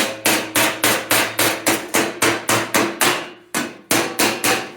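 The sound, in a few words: hammering a car floor pan patch panel on an anvil horn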